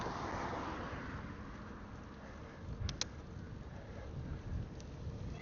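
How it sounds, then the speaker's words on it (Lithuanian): Wind blowing outdoors beside a small lake near Veisiejai, a steady broadband rush and low rumble buffeting the microphone throughout, with a couple of brief gusty bumps partway through. "su vėju kautis nelengva"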